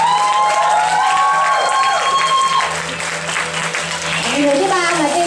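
Audience applause at a Vietnamese business event as guests are introduced, loud and steady throughout with crowd noise and a tonal murmur underneath.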